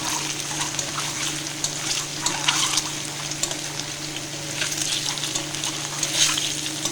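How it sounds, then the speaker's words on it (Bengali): An egg fries in a wok, giving a steady close-up sizzle with scattered crackles and pops and a faint low hum underneath, with no talking. "তো দেখো, ডিমটাকে ভালো করে ভেজে তুলে নেব।"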